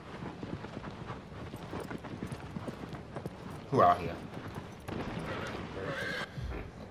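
Horse in the video game Shadow of the Colossus neighing with a loud whinny burst mid-clip over steady clip-clop hooves, while someone talks throughout.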